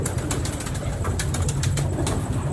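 Pigeons belonging to Ustad Khursheed, a student of Pindi champion Ustad Mullan Nadeem, coo close by, loud and busy, with soft fluttering and other bird calls mixed in and no talk.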